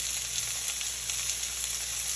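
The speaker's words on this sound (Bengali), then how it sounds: "স্যামনটা ফ্রাই হচ্ছে, অ্যাসপারাগাসটাও আমি দিয়ে দিয়েছি।" Salmon fillet and asparagus sizzling together in a frying pan, a steady close hiss of hot oil running throughout with no voices.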